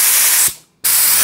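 An HVLP spray gun sprays POR 15 paint in loud, close bursts of hissing air. The spray cuts off for about a third of a second, then starts again just as strongly.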